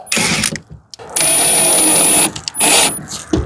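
Screws driven into the trim ring of a replacement RV roof vent fan with a power driver, loud buzzing bursts of motor whine in two long runs and a short one, close up, with brief pauses between.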